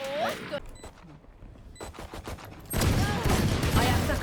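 Gunfire in the tactical shooter Valorant, bursts of rapid shots with a loud sustained volley near the end, with a voice talking over the shooting.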